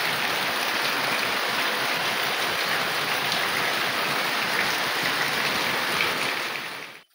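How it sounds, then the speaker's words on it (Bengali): Heavy rain pours outside a home with water pooling, a dense continuous roaring hiss, loud and steady throughout, fading out abruptly at the end with no talking. "কি পরিমাণ বৃষ্টি হচ্ছে দেখো,"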